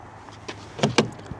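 A car is locked near Ainsdale beach: a couple of short, close clicks and chirps in quick succession over quiet outdoor background.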